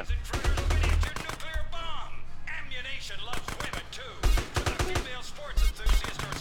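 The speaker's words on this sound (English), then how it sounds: "Shotgun's a really effective weapon because you just shoot it in all directions all the time." Shotgun blasts ring out in Grand Theft Auto San Andreas, a series of sharp bursts, some in quick clusters, over game sounds and a voice talking in between.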